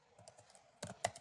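Short burst of clicking keystrokes on a computer keyboard while a folder name is typed, a few soft taps followed by a quicker cluster of louder key presses, close and alone.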